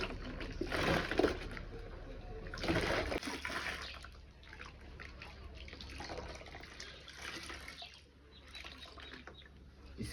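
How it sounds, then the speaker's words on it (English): Running water from a tap pours over a wig as shampoo is rinsed out, a continuous faint splashing flow with louder gushing bursts near the start. "make sure I rinse the hair I rinse off the shampoo."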